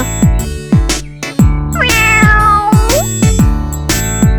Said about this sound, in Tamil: அந்த இடத்துல அவ ஒரு அழகான பூனைக்குட்டிய பார்த்தா